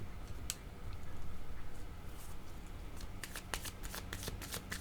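A deck of playing cards is shuffled up close, with quick riffling bursts and crisp snapping flicks against a faint low background, no talking.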